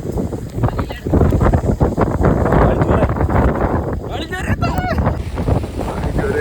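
Strong wind roars continuously over open sea during a fishing trip, loud and gusty, buffeting the microphone, with a faint rumble of motion underneath.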